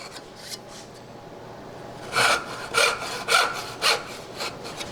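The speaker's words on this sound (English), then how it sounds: "now come in with my fret saw" A fret saw cuts wood along a marked gauge line for a dovetail joint, starting with faint light strokes and then settling into about six louder, rhythmic rasping back-and-forth strokes up close.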